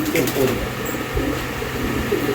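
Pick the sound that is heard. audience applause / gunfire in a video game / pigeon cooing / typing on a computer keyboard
pigeon cooing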